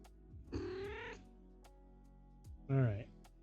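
A pet cat lets out two distinct meows, one drawn out and one shorter and louder, close by in a quiet room.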